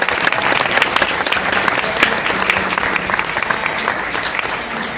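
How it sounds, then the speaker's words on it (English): Audience applause for a middle school Teacher of the Year at a school board meeting: a loud, sustained burst of many hands clapping in a room, dense and continuous throughout with a few louder individual claps. "a round of applause for her family, who also joined us this evening"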